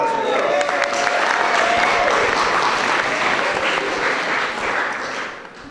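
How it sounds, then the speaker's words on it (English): Guests at a wedding reception break into sustained applause for the bride, a dense roomful of clapping with faint cheers and voices underneath, tapering off at the end. "Round of applause for her."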